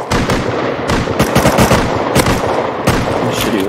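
Rapid bursts of automatic gunfire in the survival video game Rust, loud and close, crackling in dense volleys with brief gaps between strings of shots.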